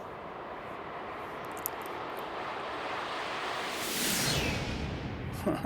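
A Cessna Citation X business jet makes a flyby in the X-Plane 12 simulator, its broad engine roar swelling steadily and peaking near the end as it passes.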